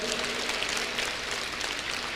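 An audience at a school function applauding, a dense, even wash of many hands clapping that holds steady throughout without swelling or dying away.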